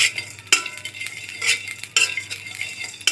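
Whole spices dry-roasting over low heat in a hot kadai are stirred with a metal utensil, giving repeated scraping clinks and rattles at a steady rhythm, close and alone without speech.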